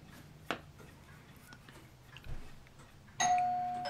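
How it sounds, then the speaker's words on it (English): A doorbell chimes once near the end, a clear ringing tone that sustains and fades, following a quiet room with a few faint knocks and shuffles. "Oh my, there goes my bell."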